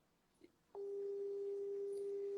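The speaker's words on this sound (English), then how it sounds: "Okay, so Rita, it's ringing" A phone call connects and a steady continuous tone sounds alone, beginning abruptly after a faint click and holding at an even, moderate level to the end.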